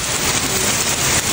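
Light drizzle falls steadily outdoors at a wall-climbing spot, a dense even hiss of fine rain with no pauses and no voices.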